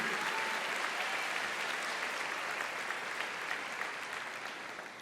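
A church congregation claps together in a steady, continuous roar of applause during worship, fading only slightly over five seconds with no voices on top.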